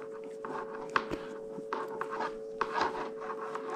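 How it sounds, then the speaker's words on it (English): A wire nut twisted onto spliced electrical wires gives soft, close scraping and rubbing twists with a few small clicks, quiet over a steady low hum. "I get my wire nut on there."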